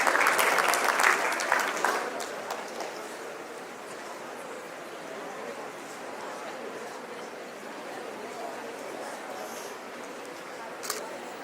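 At a school awards ceremony, an audience claps for an award-winning school, a burst of strong applause that fades within a few seconds into scattered claps and a quiet room murmur, with one sharp clap near the end.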